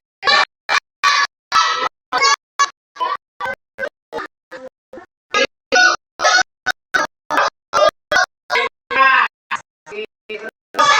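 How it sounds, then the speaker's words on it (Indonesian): A duck quacks over and over in a long, evenly spaced series of loud, short, nasal bursts, close and clear against silence between calls. "Bebek."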